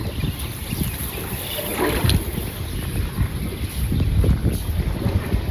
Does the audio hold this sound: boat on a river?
yes